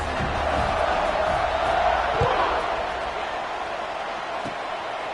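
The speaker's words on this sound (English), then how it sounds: "this crowd is buzzing after that last score" Football stadium crowd buzzing after a score, a dense continuous roar filling the space at steady loudness, with an announcer talking over it.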